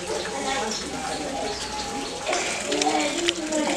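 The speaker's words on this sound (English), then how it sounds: "Bird just flew over my head then." Tropical birds in an aviary at a seal sanctuary coo and chirp throughout, under steady ambient noise and a person talking nearby.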